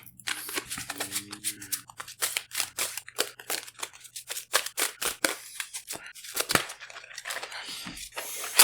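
Tarot cards are shuffled close up in a quiet room, a series of crisp riffling snaps and soft papery slaps coming in irregular bursts, with a faint low hum underneath.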